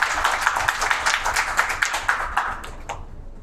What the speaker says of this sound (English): So I think we should give him a round of applause for building this